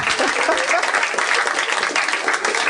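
A live comedy podcast audience bursts into loud, dense applause, a continuous roar of clapping close up with crowd noise mixed in.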